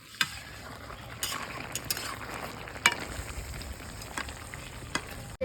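Mutton braising in a covered pot with ground chilli spices: a steady, soft sizzle and frying hiss, broken by scattered clinks and scrapes from a spoon stirring against the pot, with no talking.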